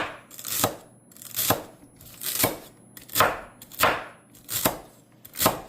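A knife chops celery on a cutting board in seven slow, evenly spaced strokes, each a crisp close crunch with a short slide, no talking.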